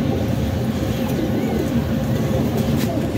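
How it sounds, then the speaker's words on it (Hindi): Pigeons coo low and steadily in the foreground, with a dense murmur of birds and faint background noise throughout. "एक से एक बढ़ के कबूतर है करीम भाई माशाल्लाह"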